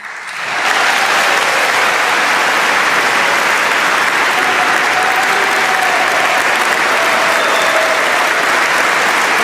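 Thunderous applause from a standing audience at the Nobel Peace Prize ceremony in Oslo City Hall swells within a second and holds as a loud, dense, continuous roar of clapping.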